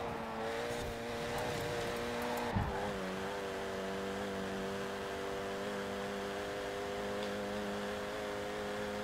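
A 2008 Renault Mégane R26-R driving on a track in the Forza Horizon video game, a steady, loud engine drone that holds a constant pitch with a brief bump near the start.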